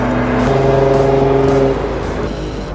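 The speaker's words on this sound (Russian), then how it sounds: "Это BMW 550, самая быстрая в России." BMW 550 accelerating hard in a 100–200 km/h drag race, a loud, steady engine roar with strong low harmonics that holds for nearly three seconds before easing slightly as it pulls away.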